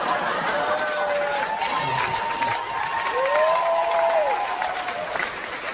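Audience applause and cheering at a Mitch Hedberg stand-up comedy show, a steady wash of clapping from a large crowd that fills the whole stretch, with faint background voices mixed in.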